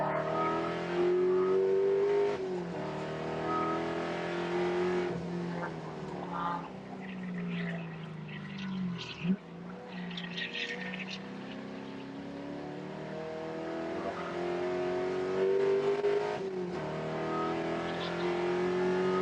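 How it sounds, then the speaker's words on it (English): Spec Corvette race cars roar around a circuit, engines revving and shifting through gears as cars run nose to tail, with a close, loud pass near the middle. "He is right up on the bumper of Libby as they get off of 4."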